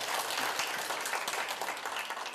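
An audience applauds at a regional forum panel discussion, with dense, steady clapping from many hands filling the room at moderate loudness throughout.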